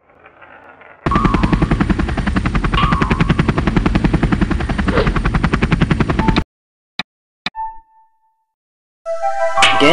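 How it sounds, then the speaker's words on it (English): A rapid, heavy thumping drone like helicopter rotor blades, loud and close for several seconds before cutting off into a few clicks and silence. "Helicopter."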